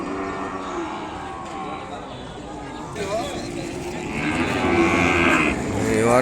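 Ongole cattle low amid a crowded cattle market, long moos swelling toward the end over constant chatter and market noise.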